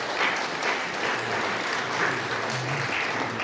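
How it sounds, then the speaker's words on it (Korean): A church congregation claps in steady, dense applause to welcome a young man back to worship, filling the room evenly throughout with no talking. "잠시 자리에 일어나시면 우리 큰 박수로 환영하도록 하겠습니다"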